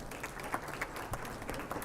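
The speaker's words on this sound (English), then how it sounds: "A big round of applause, everyone." An audience applauds for grand jury members at an eco-innovation awards finale, a soft, distant-sounding patter of many hands clapping with a few louder claps standing out.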